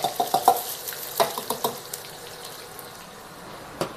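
Onion paste frying in hot oil for a fish curry, a soft sizzle under a few clinking stirs and scrapes of the pan, quiet and close with no talking.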